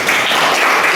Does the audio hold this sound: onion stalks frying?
no